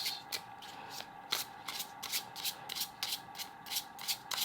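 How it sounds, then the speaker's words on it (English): Tarot cards are shuffled by hand in quick riffling bursts, a close, crisp, rhythmic flutter of card edges repeating through the stretch with no one speaking. "I'm going to pull 3 tarot cards here from another universe"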